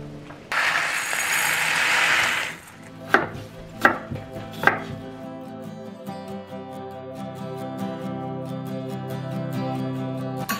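Vegetables being chopped for a lentil stew on a cutting board: a rough scraping burst, then a few sharp knife knocks, followed by a run of quick, regular light taps close up.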